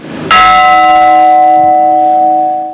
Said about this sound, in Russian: После каждого выступления колокольный звон.